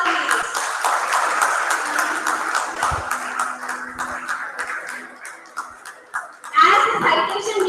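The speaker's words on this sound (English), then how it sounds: "A huge round of applause" An award ceremony audience claps in a steady patter of many hands, some individual claps standing out, dipping slightly before a louder swell near the end.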